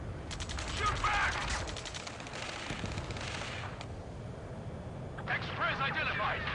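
Sustained gunfire crackles through a battle in Ace Combat 7, with mechanical rattling and urgent shouted voices over a dense, continuous wash of noise.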